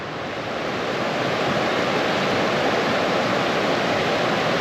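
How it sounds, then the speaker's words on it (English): Steady, loud roar of a shallow river beside a rooty trail on the road to Chilliwack Lake, a continuous broadband rush of water with no pauses, close and enveloping. "I don't know if you can hear me over the roar of the river."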